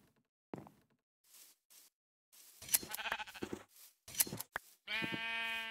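Sheep bleating in the Minecraft video game, a short nasal bleat at the end following scattered clicks and game sound effects, fairly close and clear with no talking.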